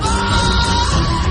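A loud, sustained human scream at close range, harsh and ear-splitting, filling the moment alone without any talk.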